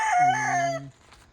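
A derby gamecock rooster lets out a single loud, close crow that rises and then breaks off abruptly, followed by quiet.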